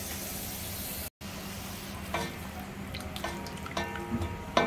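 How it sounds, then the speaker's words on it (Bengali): Onion paste and ginger-garlic paste frying in mustard oil for a rui fish curry: a dense, constant sizzle with a low hum underneath, a brief dropout, then light stirring clicks and crackles picking up. "পেঁয়াজ বাটাটা দিয়ে দিচ্ছি, এরপর দিয়ে দিব আমি আদা রসুন বাটা, দিয়ে একটু নেড়ে চেড়ে দিব"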